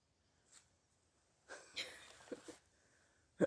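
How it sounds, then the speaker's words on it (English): Heavy, labored breaths after climbing a hill come in several bursts, some rasping and wheezy, close to the mic, with quiet gaps between them and a sharp sniff at the end. "I'm breathing really heavy, I know."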